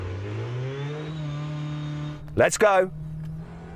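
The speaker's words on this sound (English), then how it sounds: "it can get noisy in that Dakar car with the petrol engine running" An Audi RS Q e-tron Dakar rally car idles with its petrol engine running, a steady low hum that continues as someone speaks briefly over it before the drag race.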